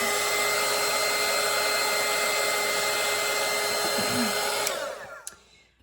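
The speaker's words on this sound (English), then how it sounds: "I remember when I first started painting with watercolor, I did not buy this dryer." A hair dryer runs steadily and loud at close range while drying a watercolour painting, holding a constant whir for several seconds before switching off and winding down.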